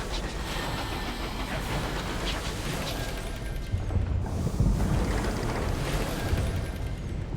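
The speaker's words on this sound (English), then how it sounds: "Is that a bigger train?" A large train in the video game Sunless Skies rumbles loudly and continuously, a dense roaring drone with faint rhythmic clatter and a heavier surge midway, with no speech over it.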